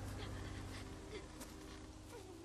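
A dog panting in The Walking Dead Season 2 video game, a quick rhythmic breathy pant held at low level over a background hum.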